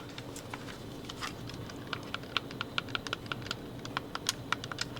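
Buttons on a Razer Kishi mobile gaming controller being pressed give sharp, close clicks in quick irregular bursts, some louder than others, with no voices.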